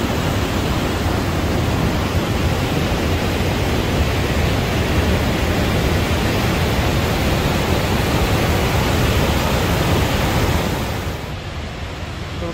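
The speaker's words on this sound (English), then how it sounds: "Coming up on the bigger of the waterfalls here in the Dead River, this little stretch. And it's raging." Raging waterfall on the Dead River, swollen with spring runoff, roaring as a loud, dense, unbroken rush of water that eases slightly near the end.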